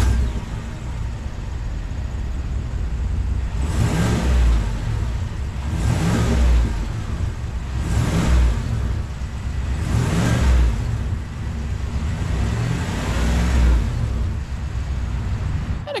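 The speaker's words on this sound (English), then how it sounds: "what does the exhaust sound like on this truck?" A 2023 GMC Sierra 1500 Denali pickup's exhaust rumbles at idle, then revs in five evenly spaced bursts, each swelling and fading, deep and close by.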